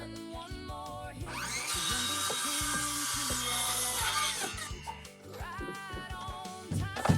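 A saw cuts through wood on a farm, a harsh, sustained rasping stroke running for several seconds in the middle, with thumps and handling knocks before and after.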